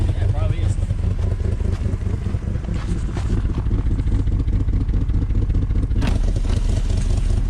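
A German luxury car with a rough-running engine and a broken exhaust sends out a loud, ragged, continuous rumble. A sharper burst comes near the end.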